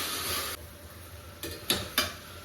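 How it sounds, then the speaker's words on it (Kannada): Soaked peas fry in a pan for beetroot pulao, a soft hiss of sizzling with a broad burst at the start and then a few sharp scrapes and clinks of a spoon stirring against the pan. "ನೆನೆಸಿರೋ ಬಟಾಣಿ. ಸೊ ಇಷ್ಟು ಹಾಕ್ತಿದ್ದೀನಿ. ಮತ್ತೆ ಫ್ರೈ ಮಾಡೋಣ."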